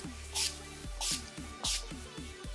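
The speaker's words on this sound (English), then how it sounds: "I'm going to use the Skindinavia makeup setting spray." Three quick pumps of Skindinavia makeup setting spray hiss close and bright, evenly spaced over a soft background hum.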